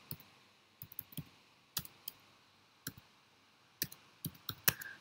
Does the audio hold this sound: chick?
no